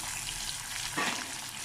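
Chopped onion for khichdi sizzles and fries in a pan, a soft, steady hiss with a brief burst of louder crackling partway through.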